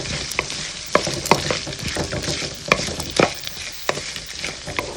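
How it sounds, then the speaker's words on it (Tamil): Onion and chili sautéing in a pan for an eggplant chutney, a steady sizzle broken by sharp spoon scrapes and stirring knocks, close and fairly loud with no talking. "இப்போது நாம் எடுத்து வச்சுருக்க ஒவ்வொரு பொருளையும் இதில் போட்டு வதக்கலாம்."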